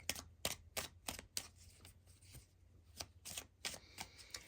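Tarot cards drawn and shuffled from a deck during a pick-a-card reading, a series of crisp papery snaps and flicks in an uneven rhythm, close and fairly quiet, with no talking.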